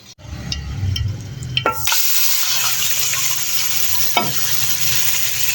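A tadka tempering for fried rice hits hot oil with a sudden loud sizzle after a quieter start of clinks. The sizzle then settles into a steady frying hiss with a brief stirring scrape.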